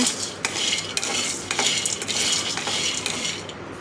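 Peanuts and pulses being dry roasted in a pan, with repeated scraping and stirring strokes against the metal and a rustling rattle of grains under a faint background hiss, close and steady.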